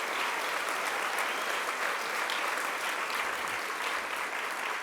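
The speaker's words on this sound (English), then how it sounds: "Give yourself a great round of applause." Sustained, dense clapping from a large conference audience, loud and steady throughout with no pauses.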